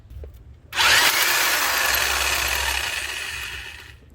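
A power tool, an impact wrench, is run in reverse to remove a wheel bolt during a tire rotation, producing one loud, close, continuous high-pitched whirring burst lasting about three seconds that starts abruptly and tapers off.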